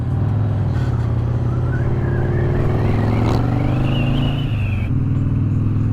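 A car moving off and cruising with a steady low engine rumble and road noise throughout, close and continuous, with a rising whine as it gets underway.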